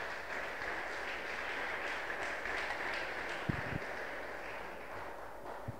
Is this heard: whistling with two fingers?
no